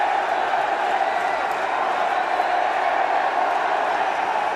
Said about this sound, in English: The crowd, they would have lined up all morning to come here to catch this little moment of history.